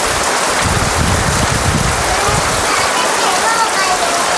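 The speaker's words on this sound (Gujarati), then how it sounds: "જો કેવો વરસાદ પડી રહ્યો છે" Heavy rain pours down in a loud, dense, continuous hiss, drumming steadily on surfaces close by.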